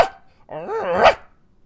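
A man imitates a dog's bark with his voice, a single loud, drawn-out woof-like howl rising and peaking before cutting off, following a brief vocal sound at the start.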